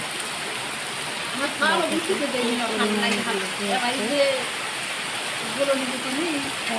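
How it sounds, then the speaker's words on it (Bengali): A continuous wash of falling rain fills the background as a person speaks intermittently over it. "এই দেখো বলতে না বলতে বৃষ্টি চলে এসেছে"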